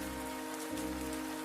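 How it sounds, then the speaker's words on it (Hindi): Rain of the season's first cold-weather shower falls steadily, a dense, even hiss of drops on surfaces that stays constant and close throughout, with no voices. "देखो माधुरी, यह ठंड की पहली बारिश है"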